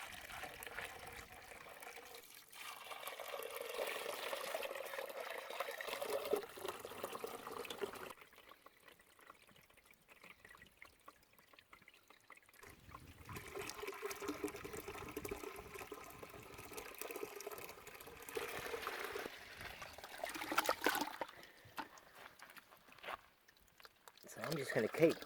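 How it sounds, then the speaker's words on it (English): Water tipped from a container into a filter while gold prospecting, a continuous trickling and splashing pour that stops and restarts, with someone talking over parts of it. "So all we're dealing with now is purely water. And I'm going to pour it into our filter."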